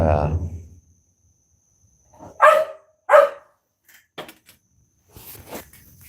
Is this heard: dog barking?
yes